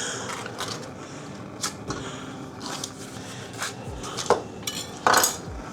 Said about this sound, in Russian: Я взял нашу сковородку. Туда сейчас добавлю сливочное масло.